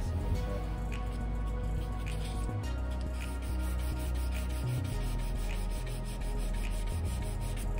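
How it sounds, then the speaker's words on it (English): Steady back-and-forth hand sanding of patina paint on a 1956 Chevy body, a close, continuous scratchy rubbing in even strokes. "try and soften up these hard edges where I'm sanding"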